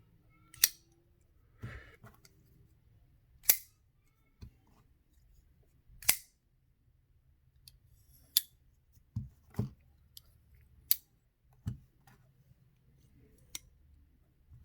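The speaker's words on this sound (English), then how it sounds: "the action, that click for those knives is almost mesmerizing" Flipper knives, a Grimsmo Rask and a Holt Bladeworks Specter, snapping open with sharp metallic clicks, about a dozen crisp isolated snaps spaced irregularly over a quiet background, close and clear with no talking.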